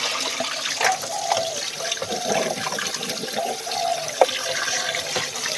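Tap water runs steadily into a sink while fish (tilapia) is washed by hand, with splashing and small knocks of handling at close range.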